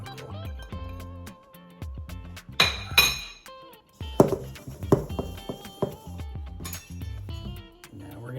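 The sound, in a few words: cutting butter into biscuit mix in bowl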